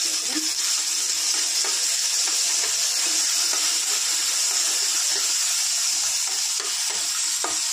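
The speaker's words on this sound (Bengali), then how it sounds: "সর্ষ ফোড়ন দিলাম, মৌরি ফোড়ন, শুকনো লঙ্কা 2-3টে মতো নাড়াচাড়া করে নিয়ে" Mustard seeds, fennel and a few dried chillies fry in hot oil for a Bengali chutney, giving a steady bright sizzle with soft crackles and occasional scrapes of stirring.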